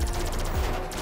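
Rapid, loud automatic gunfire from GTA 5, a dense continuous burst of shots with heavy low rumble filling a short moment.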